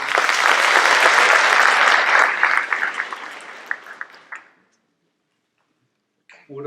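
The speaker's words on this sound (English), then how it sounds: "How about a round of applause for our MCs?" An awards-ceremony audience applauds the MCs, loud dense clapping that thins and fades out, followed by silence and the start of a voice.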